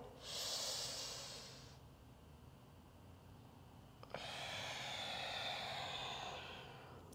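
Slow yoga breathing: a long audible exhale through the nose, a pause, then another drawn-out breath, close and soft with no talking.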